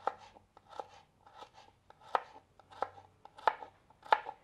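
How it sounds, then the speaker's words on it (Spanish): Knife chopping garlic into rounds on a board, a run of about ten crisp, evenly paced taps, close and clear with no voices. "Los ajos también los voy a picar en rueditas."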